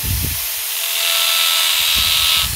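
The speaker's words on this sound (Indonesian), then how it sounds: "Apakah bisa untuk ngebor?" An electric drill hums steadily at close range, a loud continuous whine holding through the whole moment, with a bit of rattling noise at the start and end.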